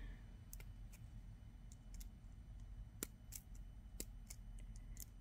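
Small wire cutters snip off excess beading wire on a pair of earrings, making several sharp, faint clicks spaced irregularly over a quiet background.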